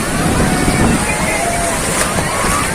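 Sea water washing up around Nishkalank Mahadev temple at Koliyak during a fair, a steady broadband rush of surf and wind noise filling the whole stretch, fairly loud and continuous.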